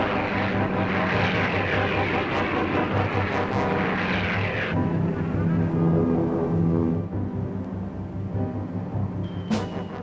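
Propeller aircraft of Japanese naval aviation in 1941 roar loudly and steadily overhead, a dense throbbing engine drone that eases slightly partway through.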